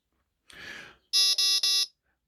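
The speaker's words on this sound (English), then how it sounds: "that beep, beep, beep warning doesn't really tell you a lot" A Jeti 900MHz backup receiver setup with a REX receiver sounds its switched-to-backup warning: three loud, evenly spaced electronic beeps follow a short soft rustle, then silence.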